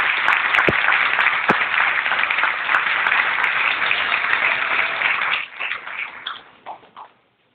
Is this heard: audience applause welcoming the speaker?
yes